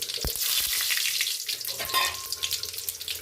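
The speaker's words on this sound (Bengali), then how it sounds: "জিরে ফোড়ন দিচ্ছি, এলাচ দারুচিনি লবঙ্গ ফোড়ন দিয়ে দিলাম" Whole cumin, cardamom, cinnamon and cloves sizzle steadily in hot oil with a constant bright crackle and occasional clinks from stirring, close and continuous.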